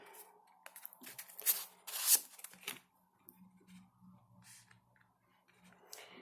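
Soft riffling and flicking of tarot cards being shuffled, a few brisk bursts early on, then quieter rustles with low muffled noise beneath.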